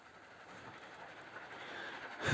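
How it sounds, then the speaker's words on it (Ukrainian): Train riding along the tracks in the video game Dead Rails: a steady, faint rolling rumble with a soft hiss that swells slightly louder at the very end. "Все ми на потяги."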